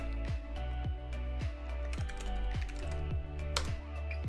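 Clicky computer keyboard keys tapped in a quick, even rhythm of about a dozen distinct strokes, close and alone with no talking.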